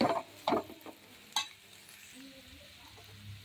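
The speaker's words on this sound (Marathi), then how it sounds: "यामध्ये बटाट्याचे काप व्यवस्थित परतवून घेऊ" Potato slices are stirred and sautéed in a pan, with a few sharp scraping clacks of the spoon over a soft, low sizzle, close and fairly quiet.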